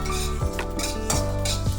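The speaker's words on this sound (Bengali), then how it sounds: "শুকনো খোলায় ভেজে নিচ্ছি" Whole spices are dry roasted in a hot wok with no oil, scraped and stirred by a metal spatula in repeated clanging strokes over a faint sizzling crackle, close by and without talk.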